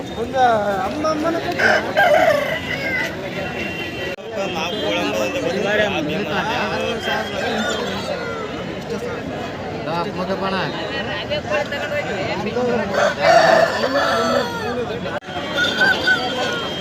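Roosters crow now and then through a noisy crowd at a poultry market in Devadurga, with people talking and bargaining close by and general market chatter filling the background.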